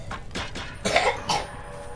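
A character in the video game Skyrim coughs several times in quick, rough bursts, close and moderately loud over a faint background, with no speech.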